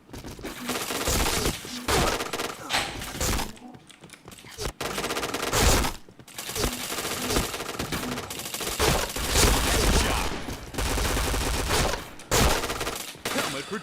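Dense, continuous bursts of gunfire from the online shooter Point Blank, with rapid automatic fire, cracks and brief pauses, loud and close throughout, while players talk over the shooting.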